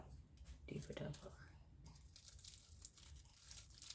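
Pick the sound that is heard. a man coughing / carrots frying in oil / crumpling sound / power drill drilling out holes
crumpling sound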